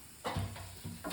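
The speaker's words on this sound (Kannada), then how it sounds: "ಇವಾಗ ಶುಂಠಿ ಹೆಚ್ಚಿಟ್ಟಿರೋಂಥ ಶುಂಠಿ ಮತ್ತು ಕರಿಬೇವು ಸೇರಿಸ್ತಾ ಇದ್ದೀನಿ" Ginger and curry leaves hit hot oil in a pan while making sweet potato palya, giving short bursts of close sizzling and stirring that come in a few uneven pulses over a steady low hiss.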